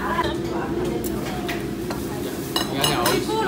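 Metal utensils scrape and clatter against a wok amid a steady sizzle of stir-frying, with busy kitchen noise and people talking in the background at a street food stall in Taiwan.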